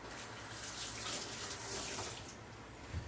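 Tap water running steadily into a sink over a green onion being washed, a close, continuous splashing rush with no talk.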